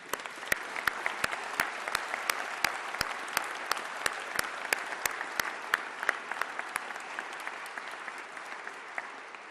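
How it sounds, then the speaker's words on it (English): Sustained clapping from a large audience at a state of the state address, honoring a young man who stands; dense, even applause with sharp individual claps standing out, moderately distant and steady throughout. "You can clap for him."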